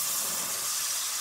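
Tomato paste sizzling in hot mustard oil already used for frying pabda fish and tempered with black cumin, a steady bright hiss and crackle close up, alone without voices for its short length.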